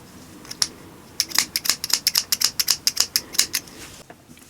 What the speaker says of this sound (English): and then you can just cut the yarn